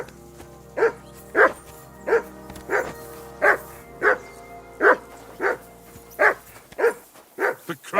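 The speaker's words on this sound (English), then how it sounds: "Call off that damn dog before he wolfs down the last of our meat." Dog in the video game Peasant Simulator barking steadily, a dozen evenly spaced barks about every half second, close and clear over a faint low hum.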